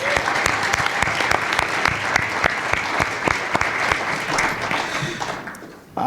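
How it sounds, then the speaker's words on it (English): An audience at a mayoral debate in Cincinnati applauds an introduced participant. The clapping is steady and full, then thins and fades out near the end. "Let's give a round of applause for Mr. Brian Frank."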